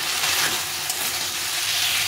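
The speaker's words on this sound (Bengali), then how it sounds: "এই পেস্টটা আমি এখানে দিয়ে এটা সম্পূর্ণ কষিয়ে নেব।" A paste of onion, garlic and tomato fries in a pan with a steady, close, bright sizzle and hiss, with no talking.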